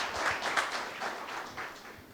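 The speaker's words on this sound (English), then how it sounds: "another round of applause for both of them, please" Audience applause at a PGDM batch inauguration event, fairly faint and steady clapping from a seated crowd that tapers slightly toward the end, with no voices over it.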